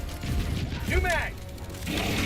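Weapon magazine reload in Helldivers II: a quick mechanical clack and ratcheting snap near the middle, set over a busy background of battle noise and a voice.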